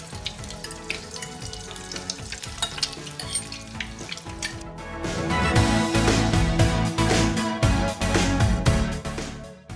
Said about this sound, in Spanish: Ahí se fríe vuelta y vuelta